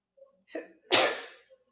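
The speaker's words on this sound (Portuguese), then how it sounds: "Espera um pouquinho que eu vou espirrar." A single close sneeze: a quick gasping intake of breath, then a loud explosive burst that trails off.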